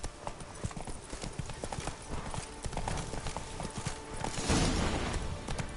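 Roach the horse gallops in a video game, hooves pounding in a dense, fast clip-clop close up, with a brief voice heard over the run.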